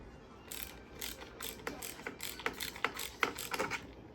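Close, quiet ratcheting clicks come in an uneven series as a part on an M1 carbine is tightened snug with a small tool.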